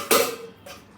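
A metal lid lifts off a pan of rui fish cooked with fennel seeds, giving a sharp clink and brief rattle, followed by a fainter second clatter a moment later.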